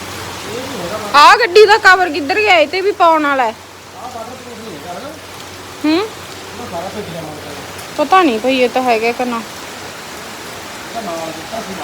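Steady rain pours down around a parked motorcycle at a Punjabi home during a downpour, a continuous wash of falling water running under several people's voices talking throughout.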